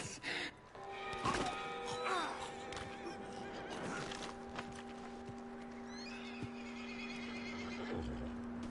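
A horse in the Red Dead Redemption 2 video game whinnies loudly and close, with clip-clopping hooves and a steady droning tone underneath, plus faint bird chirps toward the end.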